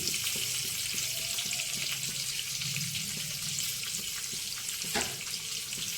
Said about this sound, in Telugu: చక్కగా వేగిపోయినాయండి.